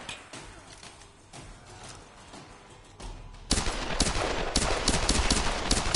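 Gunfire in Tomb Raider Definitive Edition, with sparse shots at first and then a loud, sustained barrage of rapid overlapping bangs in the second half.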